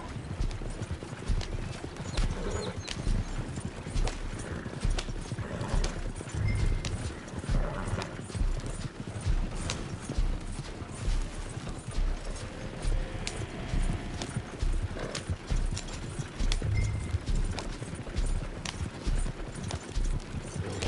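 Horse hooves clip-clop steadily at a gallop with an occasional whinny in a PS4 video game, loud and continuous throughout with game background noise.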